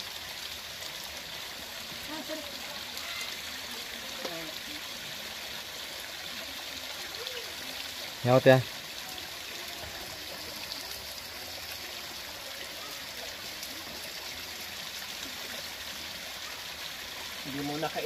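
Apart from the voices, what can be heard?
flowing mountain spring water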